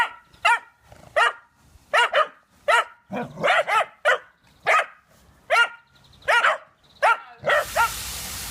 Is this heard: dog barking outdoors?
yes